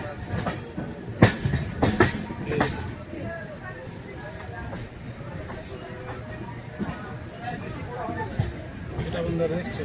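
Train pulling into Purulia Junction, a steady rolling rumble with a few sharp clanks and knocks near the start, under loud station bustle and people talking throughout.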